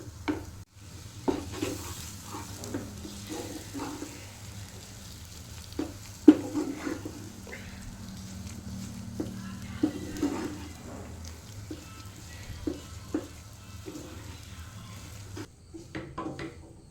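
Ragi (finger millet) dough stirred in a hot pan over a low flame, with soft scraping strokes and light pan knocks repeating over a quiet background, no talking.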